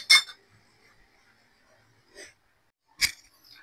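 Metal pot lid set back onto a cooking pot of ginataang liempo with papaya, two bright clinks about three seconds apart with a softer rattle between, close and alone in a quiet kitchen.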